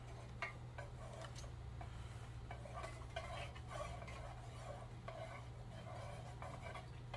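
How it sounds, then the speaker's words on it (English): A utensil stirring melted Pro-blend 650 candle wax in a pot, faint irregular scrapes and light clinks against the container over a low steady hum. "I'm gonna keep stirring."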